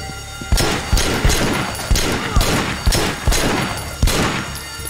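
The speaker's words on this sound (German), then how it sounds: "Oha! Geballert!" Gunfire in the video game Sleeping Dogs during a hospital shootout, a rapid run of loud, close shots with sharp cracks and booming tails, roughly eight to ten blasts in quick irregular succession.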